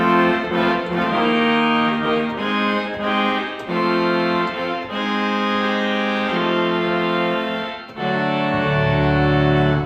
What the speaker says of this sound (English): the last real thing is a huge tromba 8